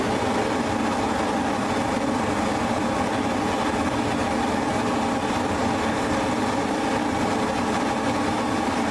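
A propane brewing burner fired up under a kettle on brew day, giving a loud, steady roaring rush with a low rumble that holds unbroken throughout, with no talk.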